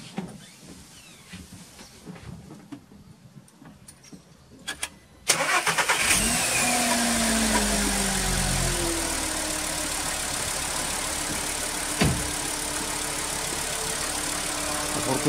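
A Volkswagen car engine cranks and catches after a tune-up, then settles into a steady, loud idle close by, with a brief rev bump partway through; quiet rustling comes before the start.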